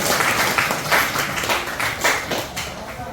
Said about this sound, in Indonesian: Tepuk tangan dulu buat jawaban teman-teman dari sini